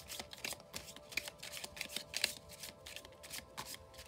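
A small mini tarot deck is shuffled close up, with a fast run of riffling card flutters and soft slaps in a quiet room.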